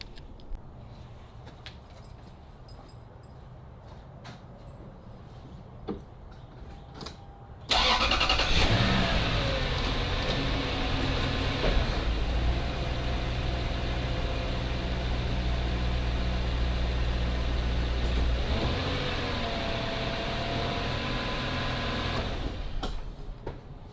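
Toyota Land Cruiser 100 series: quiet handling noises, then the engine cranks and catches around eight seconds, settling into a steady, close idle that runs to near the end.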